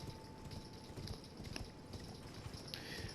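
Horse hooves clip-clop at a steady walking rhythm in the Elden Ring video game, moderately loud over a dense, noisy background.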